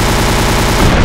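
An explosion in Minecraft blasting a house apart: a loud, dense, continuous roar of rapid crackling blasts filling the short moment with no pauses.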